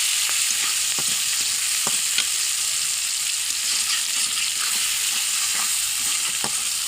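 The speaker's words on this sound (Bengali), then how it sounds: "কাঁচামরিচ আর পেঁয়াজটা ভাজা ভাজা হওয়া পর্যন্ত অপেক্ষা করব" Green chillies and onion fry in a little oil in a pan, with a constant close, bright sizzle. Light stirring taps run through it, and no one speaks.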